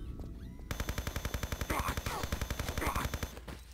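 A gun turret fires in Tomb Raider Chronicles, a fast, steady burst of rapid automatic shots that starts abruptly and hammers on loudly for several seconds over a droning game background.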